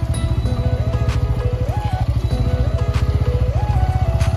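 A motorcycle labours along a slippery off-road dirt track on a hill route home, its engine droning loud and close with two rising surges of revs.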